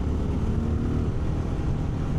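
Honda XR650L motorcycle engine running steadily with a deep low rumble, close and continuous, mixed with wind buffeting from riding.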